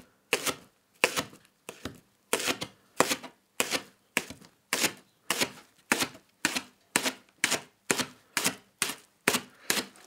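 A chef knife chops through old, past-date leeks on a cutting board, giving about twenty sharp, evenly spaced knocks in a steady rhythm, close and clear with no talk.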